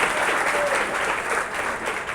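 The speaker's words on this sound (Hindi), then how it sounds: "मारिए ताली" Students in a classroom break into clapping, a thick, even burst of applause that fills the whole moment with no voices standing out.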